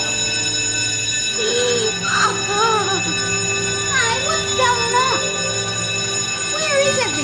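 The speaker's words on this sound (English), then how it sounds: "Can't you hear the bell?" A prison alarm bell rings continuously as a steady metallic tone in a 1979 television drama, sounding under a voice that speaks over it.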